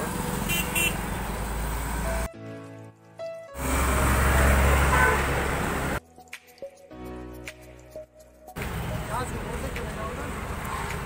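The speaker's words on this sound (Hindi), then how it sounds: "यहाँ पे ट्रैफिक आता है।" Road traffic passes close by with vehicle noise and car horns, interrupted by abrupt cuts and quieter gaps, with some speech-like sound mixed in.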